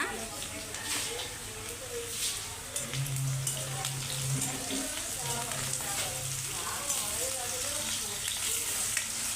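Onions sizzle in a pan as turmeric is added, a steady crackling fry with some stirring scrapes throughout while a person talks over it.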